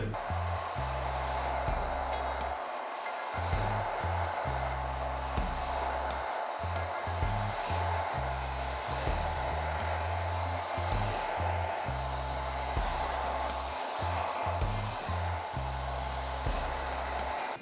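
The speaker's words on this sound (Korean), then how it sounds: "드라이기를 강풍이나 약풍 여러분들이 원하시는 걸로 조절을 해서 머리카락 꺾는 겁니다." A hair dryer blows steadily close by while hair is styled, a constant loud rushing whir with repeated short dips and surges as the airflow is moved or switched between settings.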